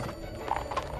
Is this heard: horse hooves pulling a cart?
yes